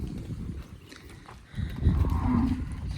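An ox (bullock) lets out a low, drawn-out moo, fairly close, following a quieter moment of faint background noise.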